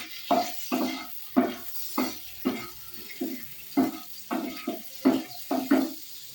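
Whole cinnamon, bay leaf and black peppercorns being stirred through melted butter in a pot, a steady series of about a dozen short scraping strokes with a soft sizzle underneath, close and fairly quiet.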